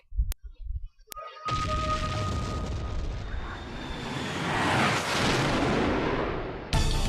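A missile barrage erupts in the video game Bangai-O HD, a sudden loud roaring wall of overlapping blasts that rumbles continuously for several seconds after a few sharp clicks.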